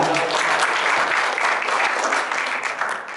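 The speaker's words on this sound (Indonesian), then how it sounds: "Beri aplaus untuk kita." An audience claps steadily through a grand final interview at a Honda service contest, a dense, even wash of applause from start to finish with a voice faintly beneath it.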